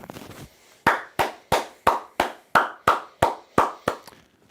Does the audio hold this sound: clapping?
yes